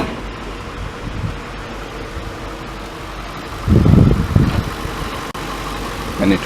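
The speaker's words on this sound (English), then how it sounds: "You can still hear a little bit of chatter, but it's a smooth engine, right?" Infiniti M sedan engine idling smoothly with a steady low hum and slight mechanical chatter, plus a brief louder surge partway through.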